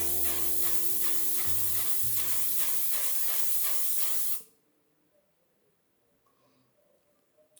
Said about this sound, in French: Je vais directement appliquer une première couche de spray, je vais utiliser le One Size, la version waterproof.